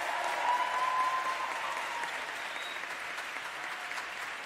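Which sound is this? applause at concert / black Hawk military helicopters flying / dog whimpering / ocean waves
applause at concert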